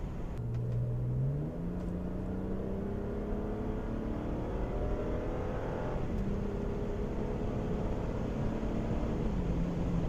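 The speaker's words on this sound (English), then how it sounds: "There's a slight delay in the upshift, and it just upshifts a little bit clunky." A BMW E88 128i with the N51 engine and automatic transmission pulls hard on the highway in sport mode. The engine rises in pitch, drops at a slightly delayed, clunky upshift, then climbs again under steady road rumble inside the cabin.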